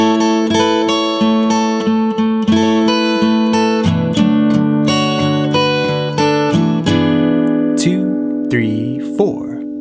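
Acoustic guitar plays the second line of a song intro, bright picked notes ringing over steady lower strings in a continuous, close melodic phrase with no talking.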